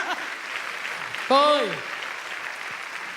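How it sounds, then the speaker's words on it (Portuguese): Congregation applause in a church service, steady clapping throughout, with a speaker's brief emphatic voice cutting in partway. "Pode aplaudir!"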